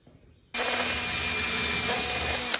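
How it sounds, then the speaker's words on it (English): A power drill runs steadily for about two seconds, driving screws into laundry room cabinets, with a loud continuous whine that stops abruptly near the end. "He's gonna screw these into place, but it does help to nail them into place first."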